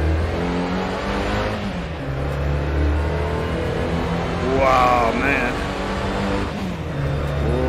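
A Triumph TR4 sports car at Laguna Seca in a racing game: the engine drones steadily with a rising rev midway, close and fairly loud, while someone talks and exclaims over it.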